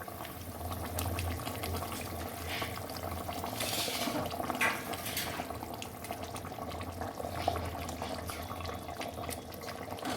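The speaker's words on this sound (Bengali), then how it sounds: "ঝোলটা আমার ফুটে গেছে, এখন আমি মাছগুলো ছেড়ে দেব।" Pieces of chital fish go into a boiling curry (kalia). The liquid bubbles and simmers in a quiet, continuous wash, with no talking over it.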